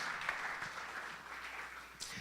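Congregation in a church service bursting into applause in celebration, a dense steady wash of many hands clapping at moderate distance throughout, with no speech over it.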